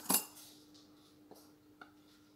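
A metal spoon and fork are set down on a surface: one sharp clink at the start followed by two softer, lighter taps, close and quiet.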